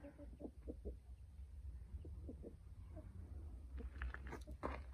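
Hens and a white rooster cluck in short repeated bursts close by, a busy flock sound at moderate level with brief sharper calls near the end.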